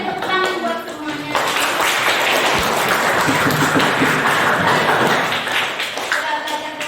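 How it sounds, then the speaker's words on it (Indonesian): A classroom of students claps together after a herbal-remedy practical lesson, loud sustained applause that breaks in after a short spoken line and continues for several seconds before voices return near the end. "Tepuk tangan buat semuanya."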